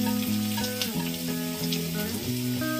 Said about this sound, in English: And now I'll add these mushrooms into the pan.